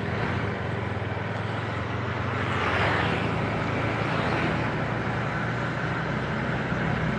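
A Honda CBR motorcycle engine runs at a steady, smooth hum after an engine rebuild, a continuous broadband drone with a slight swell midway, close and without talk.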